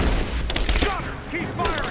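Gunfire during a firefight in Rise of the Tomb Raider forms a dense, loud volley of overlapping shots over a busy combat din, with game voices shouting amid the shooting.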